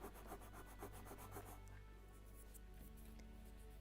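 Light rhythmic sanding strokes on wooden hull planking of a Mayflower model ship, quick close rubs for the first couple of seconds over a low steady hum, then fading to soft scraping.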